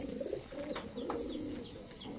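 A red male Rajgolla pigeon from Manikganj coos softly, its low rolling calls faint and repeated amid other birds chirping nearby, with no talk.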